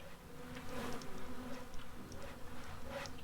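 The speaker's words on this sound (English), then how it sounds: "I hear bees. Do you guys hear bees?" In the game Stonehearth, bees buzz steadily nearby, a droning hum that swells and fades as insects move around, with no talking.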